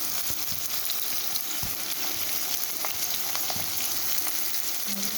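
Steady, dense sizzling of potatoes frying in hot oil with tempered spices, a constant crackling hiss with occasional soft pops, close and continuous throughout.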